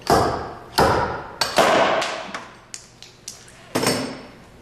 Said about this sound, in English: I actually want to slide hammer this and give it a pretty hard little stroke